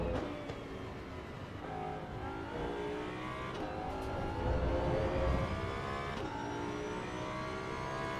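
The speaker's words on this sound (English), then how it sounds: "This car sounds epic." Race car in Assetto Corsa EVO, its engine steadily droning and revving through gear changes, loud and continuous with a slight swell midway.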